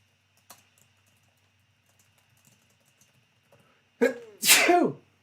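One loud, close human sneeze with a sharp intake and burst near the end, after a quiet stretch with faint small ticks.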